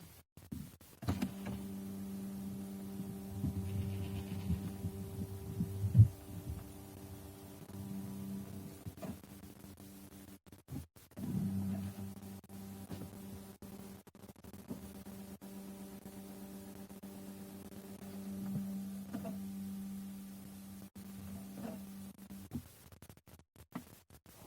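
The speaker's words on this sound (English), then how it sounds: "What you just heard is the learning of the doors inside of the climate control." After a car battery replacement, the climate control blend door motors recalibrate with faint, steady electric whirring hums. The whirring runs in long stretches, pauses briefly and resumes, quiet and alone inside the car.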